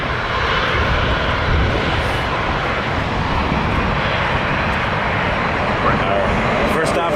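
WestJet Boeing 737-700 arriving from Edmonton, passing directly overhead at Toronto Pearson with a loud, steady broadband jet roar throughout.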